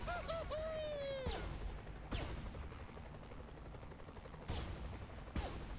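Separate gunshots in the video game Saints Row 3, four sharp cracks spaced a second or two apart over a low game ambience, with a rising and falling synthetic tone at the start.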